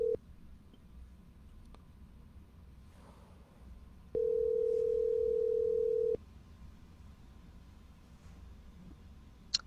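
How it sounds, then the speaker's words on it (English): A steady telephone dial tone sounds briefly, then again for about two seconds, with quiet line hiss and faint clicks around it. "We got dial tone."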